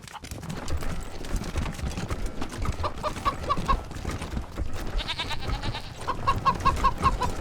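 Chicken clucking and a goat in the Wasteland 3 video game, repeated short clucks and bleating calls over a busy game soundscape with clattering hoof-like taps, moderately loud and continuous.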